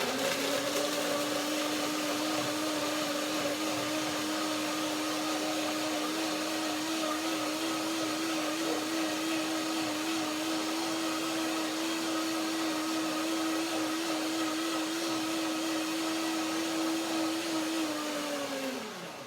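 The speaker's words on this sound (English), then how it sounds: "then I will blend it again, perhaps with a little bit more water" A blender blends bananas with water at a steady high whir for nearly twenty seconds, loud and constant, then winds down at the very end.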